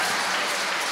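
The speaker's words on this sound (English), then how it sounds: "So let's give Jesus a really big clap." A church congregation claps together during a Sunday sermon service, a dense steady wash of applause filling the whole second at even loudness with no voices breaking through.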